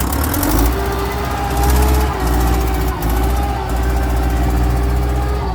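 A tractor engine chugs loudly and steadily up close on rain-soaked, slippery ground, its low rumble and knocking rhythm persisting throughout with brief dips in intensity.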